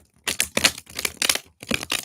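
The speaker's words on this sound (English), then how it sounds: "let me shuffle the cards" Tarot cards being shuffled by hand in a series of brisk riffling bursts, close and fairly loud, with short pauses between the bursts and no voices.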